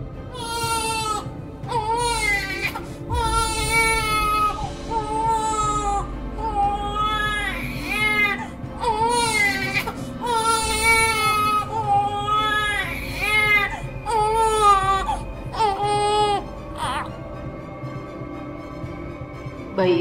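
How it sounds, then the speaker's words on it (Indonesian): A newborn baby cries loudly and repeatedly in long wailing bursts broken by short gasps, close and unaccompanied, with the cries trailing into quieter whimpers near the end. "kenapa tangisannya terdengar sedih sekali?"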